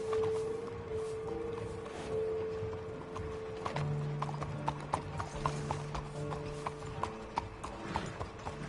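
Horse hooves clip-clopping in the Red Dead Redemption 2 video game, a steady walking rhythm at moderate distance under a low ambient hum and background game sounds, with brief talk.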